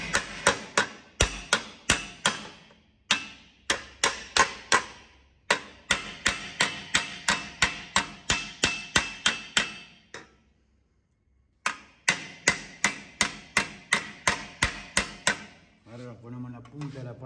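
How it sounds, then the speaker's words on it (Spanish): A round hammer beats damaged car body sheet metal in a body shop: rapid runs of sharp metallic blows, close and loud, with brief pauses between bursts. "Y vamos a usar este martillo redondo."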